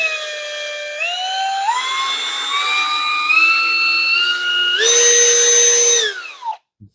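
A Parkside Performance PABS 20-Li C2 cordless 20-volt drill runs alone at its lowest speed setting, its whine stepping upward in pitch several times, then surging louder before spinning down and stopping, followed by a couple of small clicks.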